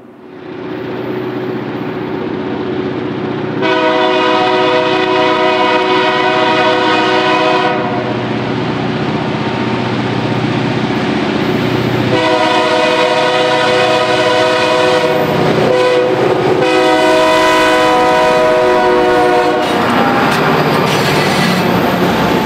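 EMD diesel locomotives haul a freight train past at speed, their engines loud and close, with a long multi-tone horn sounding in several extended blasts over the steady rumble and rail noise.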